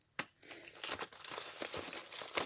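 Crinkly plastic and paper parcel packaging is torn open and crumpled up close, a sharp rip followed by continuous rustling and crackling, with no talking.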